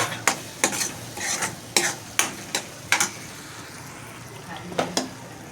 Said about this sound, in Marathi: आलं लसणाची पेस्ट टाकते. ते परतून घेते चांगलं. आणि ह्याच्यातच मग टॉमॅटो टाकेल आता मी.